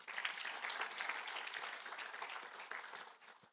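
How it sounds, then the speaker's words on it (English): Audience applause at a financial literacy conference on wealth creation and life skills, steady dense clapping from a crowd that holds for several seconds, then tapers slightly. "So once again, a round of applause to him."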